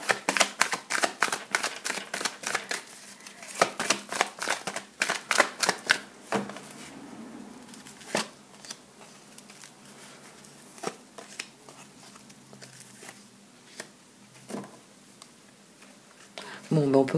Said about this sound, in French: Allez, 3 cartes pour terminer.